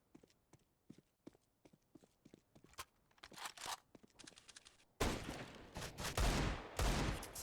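Gunfire in a Counter-Strike esports match: scattered sharp single shots and footstep clicks, then a sudden dense burst of loud rapid firing in the last few seconds.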